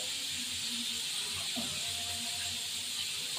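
Panch phoron five-spice mix dropped into hot oil for a gourd-leaf prawn curry, giving a continuous close hiss and sizzle, fairly even throughout with a brief crackle near the middle.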